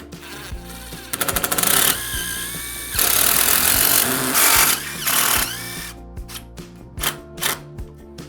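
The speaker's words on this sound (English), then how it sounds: "we're going to take our screw and drive it through the side here" A power driver sinks a screw into an RV door frame. Its motor whirs in several bursts, some rapid and stuttering, others a longer steady whine, close and loud.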